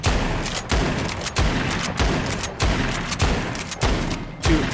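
Automatic gunfire from the God Phone mod in The Walking Dead: Saints & Sinners virtual reality game, a series of about eight heavy evenly spaced shots with booming tails, loud and close with no talking.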